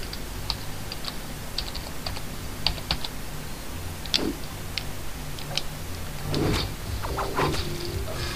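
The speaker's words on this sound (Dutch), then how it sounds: "ik zit in het foute scherm te typen" Steady clicking of typing on a computer keyboard, close and fairly quiet, with irregular bursts of keystrokes over a faint background hum.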